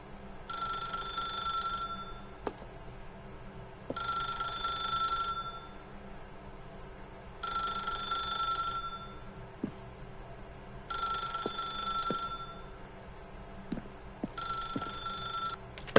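An old telephone bell rings in five evenly spaced bursts, each about a second and a half long with short pauses between, over a soft background hum.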